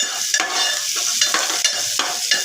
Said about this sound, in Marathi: कांदा थोडासा परतला